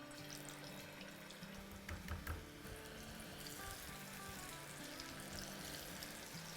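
Chicken pieces drop into hot oil in a wok for a chicken masala fry, giving a soft, steady sizzle and bubbling that runs throughout at low volume.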